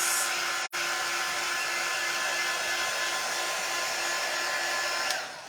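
A hair dryer blows steadily and loudly on a layered Valentine heart craft, cutting out for a split second near the start and then running continuously before winding down at the end.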